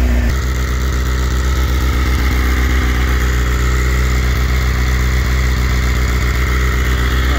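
A 2006 Suzuki GSX-R600 sportbike engine idles steadily while warming up, a constant close and loud low thrum with no change in revs. Nobody talks.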